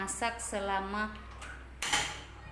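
Metal pot lid set back down on a pot while cooking lontong, a couple of sharp clanks and a ringing scrape, close, with a person speaking around them.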